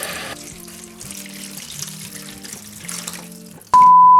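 Water poured from a container into a tray to bottom-water young vegetable seedlings, a steady close splashing trickle that runs for several seconds and then cuts off into a short tone.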